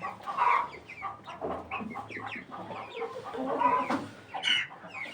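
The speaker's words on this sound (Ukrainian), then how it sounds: "Їсти, кури всі позбивалися." A flock of chickens clucks and murmurs while feeding in a farmyard, with overlapping close calls and chatter that swell and fade in a busy, uneven rhythm.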